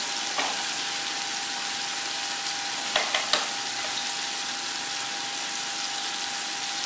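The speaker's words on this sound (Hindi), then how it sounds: "तो मैं इसे इसी तरह भूनूंगी।" Onion with salt and turmeric frying in a pan for tinday sabzi, a steady close sizzle with a few faint stirring knocks partway through, no voices.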